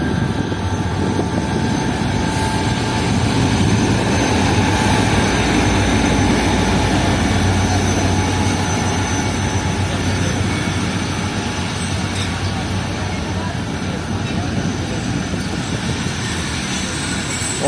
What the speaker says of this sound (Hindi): तो दोस्तों ये आ गई मीरपुर खास कराची के दरमियान चलने वाली 150 डाउन मेहरान एक्सप्रेस HMU